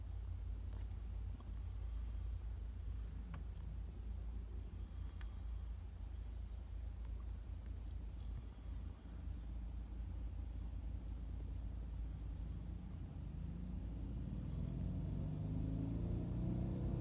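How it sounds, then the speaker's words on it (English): A cooling fan whirs steadily on a 1991 Corvette ZR-1 that has a stalling fault, a continuous low rumble and hum that swells slightly near the end, with no talking. "Some fan is running now."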